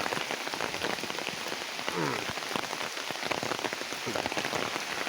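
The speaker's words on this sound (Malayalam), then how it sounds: "മഴ ഇപ്പോഴും ഇങ്ങനെ പെയ്തുകൊണ്ടിരിക്കുകയാണ്" Steady monsoon rain pours outdoors in Kerala countryside, a dense, even hiss of drops pattering on surfaces and puddles, close and continuous with no voices.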